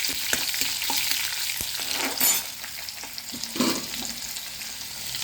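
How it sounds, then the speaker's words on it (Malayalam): Slit green chilli and small shallots frying in hot oil, with a steady sizzle and occasional stirring clicks and scrapes, close and alone. "ഒരു പച്ചമുളക് കീറിയത് ഇട്ട് കൊടുത്തു. ഇതിൻ്റെ കൂട്ടത്തിൽ ചുവന്നുള്ളി ചേർത്ത് കൊടുത്തു."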